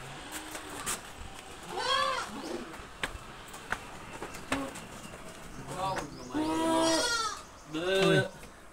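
Goats bleating in goat pens on a farm, several wavering bleats at close range, some overlapping, with birds and other farm animals calling in the background.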